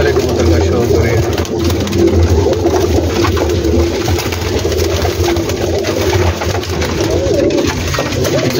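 A large rooftop flock of pigeons in Gujranwala keeps up steady, overlapping coos, close and constant, while someone speaks above the birds and a low engine drone sits in the background.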